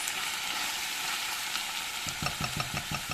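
Food sautés in a pan with a steady sizzle, and stirring strokes scrape rhythmically near the end.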